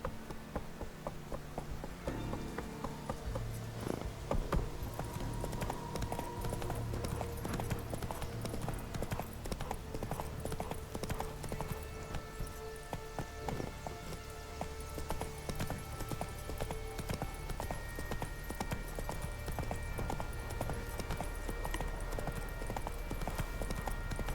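Roach the horse gallops in The Witcher 3 game, a rapid rhythmic clip-clop of hooves that runs steadily and close throughout, with soft ambient game sound and faint background tones.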